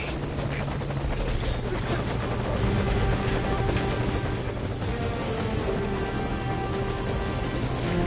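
Helicopter arriving at a landing zone in Metal Gear Solid: Ground Zeroes, a loud, steady, close rotor thrum with engine whine that holds throughout, no talk.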